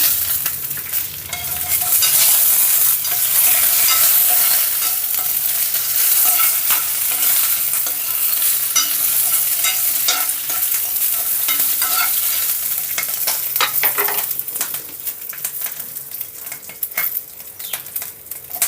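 Dried red chillies, green chillies and ginger fry in hot oil in a pan for hotel-style tomato chutney, a loud, dense sizzle near the microphone broken by frequent metal spoon scrapes and clinks against the pan.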